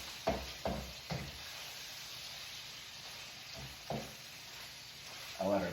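Ground beef frying in a pan for Sloppy Joes, a steady low sizzle with several sharp scraping and stirring bursts as the chunks are broken up, fairly quiet and close.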